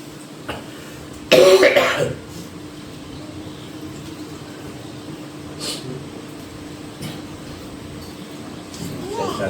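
A single loud, harsh cough bursts out close to the microphone during a church sermon, with quiet room tone before and after.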